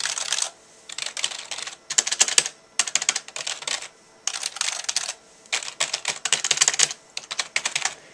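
Typing on a Microsoft X4 gaming keyboard, heard as bursts of quick, clicky keystrokes separated by short pauses, close and moderately loud with no talking.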